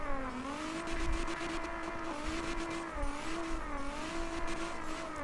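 Cars drifting around a track in the CarX Drift Racing video game, a steady engine drone with rising and falling revs and tire squeal running throughout, no talking.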